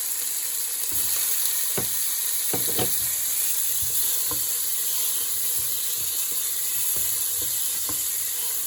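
Small pieces of tomato are added to a pan with onion and sizzle steadily, with intermittent scraping and clinking of a utensil stirring against the pan.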